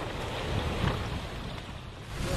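Rough sea waves surge against coastal rocks by a remote island off South Jeolla, a loud continuous roar and wash of water with wind buffeting, no voices.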